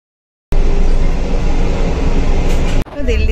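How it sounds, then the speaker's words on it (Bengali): Delhi–Sealdah Rajdhani Express running, a loud, steady, broadband rumble and rattle of the moving train heard from inside the coach. It starts abruptly and carries on without a break, then briefly drops out and returns. "দিল্লি থেকে আমাদের ট্রেন ছেড়ে দিয়েছে এখন একদম রাইট টাইমে 4:30।"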